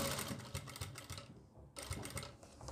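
A sewing machine stitches a straight side strip onto a kitchen apron in quick rattling bursts, pausing briefly midway before running again; close and fairly quiet.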